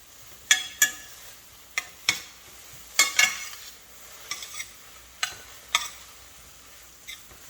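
A spinach mixture cooks in a skillet while a utensil stirs it, producing a series of sharp scraping and tapping strokes at irregular intervals over a faint low sizzle, close up with no voices.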